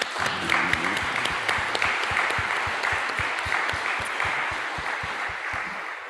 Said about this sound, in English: one final round of applause for Dawn